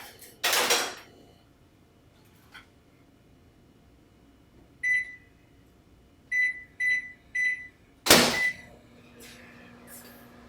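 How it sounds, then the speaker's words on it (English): Keypad beeps on a microwave, a single tone then a quick run of three, between louder clunks of a door opening and closing nearby. "So for the parm, we simply need to microwave for 3 minutes and 15 seconds."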